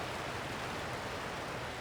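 A steady, loud rushing roar of falling water from a waterfall in the video game The Outer Worlds, continuous and unbroken, heard up close with no other sounds.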